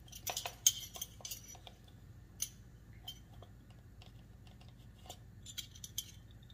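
Metal measuring spoons clink together in a kitchen, a quick cluster of light metallic taps followed by scattered faint ticks and jingles, close and quiet with no talk.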